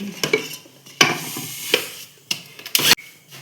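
A spoon stirs a mixture of grated coconut and roasted, ground rice powder for ariyunda in a pan, giving a series of irregular scraping and rubbing strokes with short bursts of louder scuffs.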